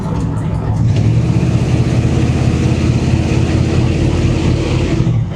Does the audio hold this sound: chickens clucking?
no